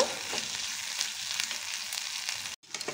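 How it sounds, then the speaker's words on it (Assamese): Turkey berries (tita bhekuri) dry frying in an open pan give off a steady, close sizzle and crackle, with a short drop-out just before the end. "এনেকৈ অপেনকৈ সিজাই দিওঁ তেতিয়া ড্ৰাই ফ্ৰাই টাইপ হ'ব"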